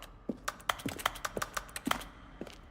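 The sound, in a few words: button press sound from video game The Stanley Parable, keyboard stroke and synthesized tone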